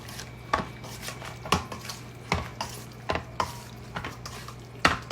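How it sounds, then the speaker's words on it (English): A spoon turning potatoes and dressing in a single bowl, giving a series of close scraping clinks roughly every half second over a faint steady hum, with no speech. "let's just take a spoon And I'm gonna just move that around."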